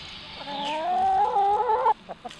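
Hens nearby give a long, wavering, drawn-out cluck-call lasting over a second, followed by a few short scattered clucks, close and distinct.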